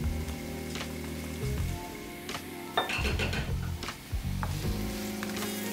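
Mushrooms sizzling in a pan of hot rapeseed oil with chopped ginger and garlic, a steady close frying crackle with occasional utensil clinks and scrapes, no talking.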